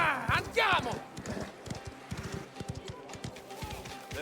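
Horse hooves clip-clop at a fast gallop in Mafia: The Old Country game, close and continuous, with a rider's shouts and a brief whinny at the start.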